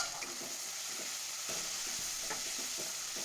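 Masala for paneer butter masala sautéing in a pan, a continuous hiss of frying with soft repeated stirring scrapes, close and steady, no talk.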